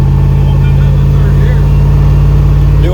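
A car engine on a garage test run, carburetor setup, holds a loud, close, steady high-RPM drone with an even pitch throughout, and a voice can be heard over it.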